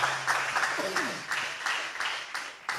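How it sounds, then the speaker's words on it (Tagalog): Church congregation clapping loudly during a preaching service, with rhythmic bursts of applause pulsing in a steady beat, a voice briefly audible beneath the clapping. "Palakpakan natin ng malakas na palakpak."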